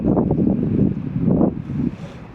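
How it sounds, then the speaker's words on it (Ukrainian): Strong wind buffets the microphone in low, gusty bursts, rising and falling in rough waves of rumble, among old ruined walls in Italy. "Сьогодні сильний вітер."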